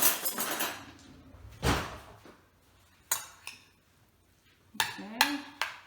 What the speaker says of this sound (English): we're going to get a spoon and stir that up